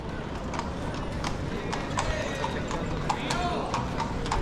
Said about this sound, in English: And these horses.